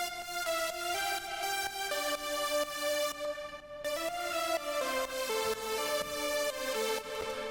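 A bright synth playing a sequence of sustained chords and notes, squashed by Ableton's OTT multiband dynamics preset so the highs sound crisp and biting. It plays alone, fairly loud and dense.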